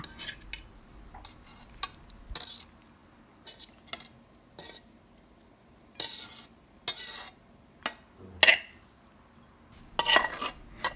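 Stir-fried pork with basil is plated: scattered clinks and scrapes of utensils against dishes and pots, short separate bursts with quiet gaps between, no talking.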